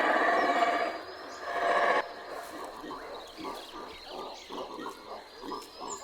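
Howler monkeys in the wild of Central America let out a deep, roaring chorus that swells loudly at first, then breaks into rhythmic pulsing howls that fade somewhat while continuing.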